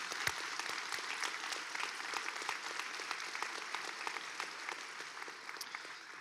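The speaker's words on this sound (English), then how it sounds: "let's give a round of applause to all of them as well." At a high school early college graduation ceremony, the audience gives a soft, sustained round of applause. The dense, fairly distant clapping holds steady, then tapers slightly at the end.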